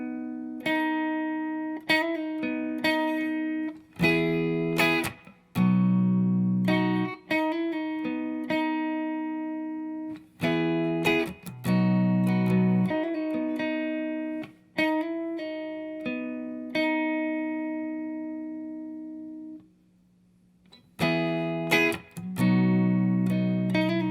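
Clean electric guitar picking a verse pattern, with arpeggiated chords and single-note picks in bursts separated by short gaps, close and clear, with no talk.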